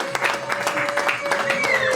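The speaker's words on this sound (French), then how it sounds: "un applaudissement pour notre" Applause at a year-end celebration gathering, a short run of scattered clapping from the audience at moderate volume with a faint sustained tone running beneath.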